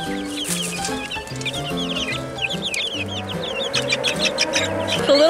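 Chickens cluck and squawk steadily on a farm, a busy flock with overlapping calls and short bursts close by, with no talk in the clip.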